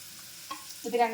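Ginger frying in ghee in a pan. A brief stir is followed by a sizzle that swells up and keeps going, close and moderately loud.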